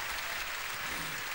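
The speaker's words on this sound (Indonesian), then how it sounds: "Tepukan untuk yang berbahagia Datuk Endok Kilau." Studio audience applause on a Malaysian televised singing competition show, a dense, steady wash of clapping filling the short stretch at moderate level with no talking over it.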